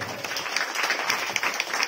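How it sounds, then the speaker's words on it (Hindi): A crowd at a Bhagavat katha religious gathering claps to welcome Babli Didi, a dense and steady ripple of applause that stays even throughout. "सभी एक बार तालियां बजाकर दीदी का स्वागत करें"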